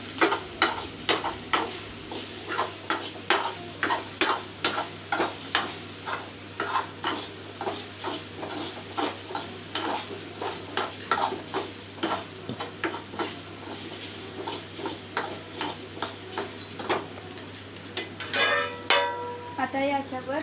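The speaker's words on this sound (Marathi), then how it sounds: "यानंतर आता आपण भिजवलेले चुरमुरे टाकून घेऊया। याला आपण परतून घेऊया परत एकदा।" Soaked puffed rice (churmure) is stirred and sautéed in a pan, with rhythmic scraping strokes of a spoon repeating steadily over a soft background sizzle. The sound is close and continuous, with no talking.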